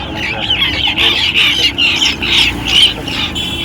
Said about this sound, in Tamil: இது சேவல்